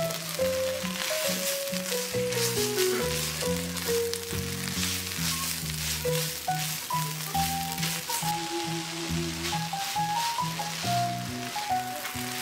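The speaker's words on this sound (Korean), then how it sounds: "미역줄기가 야들야들해지면 이때 양파와 고추를 넣어서 볶아주세요." Seaweed stems frying in a pan with onion and chili give a steady broadband sizzle, partly masked by louder melodic background music throughout.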